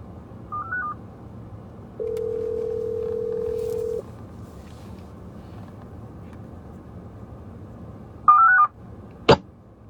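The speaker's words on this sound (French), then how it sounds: "Ils ont relancé l'appel." Touch-tone keypad beeps at the start, then a steady two-second dial tone, and another burst of DTMF dialing near the end as a phone call is redialed, followed by a sharp click.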